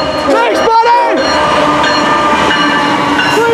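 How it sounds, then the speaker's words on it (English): A CSX ES44AH locomotive, number 3044, sounds its horn while leading a freight train, giving a loud sustained chord against rumbling rail noise, with a voice shouting over it near the start. "Yeah, blow that horn, baby."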